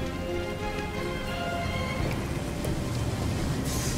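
Steady rain falls in a video game, a continuous broadband hiss with scattered patter that holds level throughout, with no talk over it.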